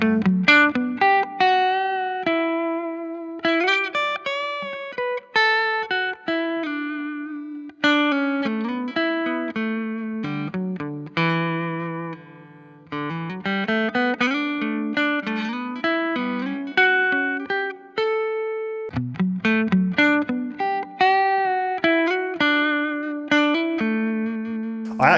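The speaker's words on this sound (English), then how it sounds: "All of my clean playing you're hearing on this video has the reverb set to max, and it's either on the hall or the plate setting." A clean electric guitar runs through a Boss IR2 pedal with the reverb set to maximum on a hall or plate setting, playing a flowing melodic passage of picked notes and chords with a subtle tail, no talk.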